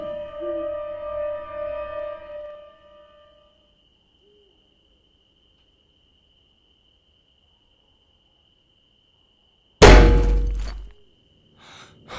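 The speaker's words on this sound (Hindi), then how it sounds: "तभी अचानक से कैबिन के दीवार पे एक जोरदार पत्थर की आवाज आई" A single loud, sharp thud strikes after a long stretch of near silence, ringing briefly before fading, with faint tonal hum earlier.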